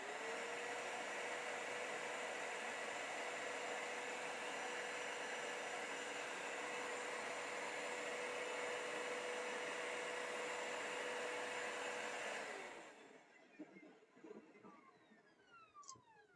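A Hoover carpet cleaner runs loud and steady with a constant motor whine for about twelve seconds, then is switched off and winds down, leaving quieter clicks and handling noises.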